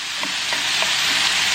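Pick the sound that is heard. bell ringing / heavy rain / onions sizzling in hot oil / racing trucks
onions sizzling in hot oil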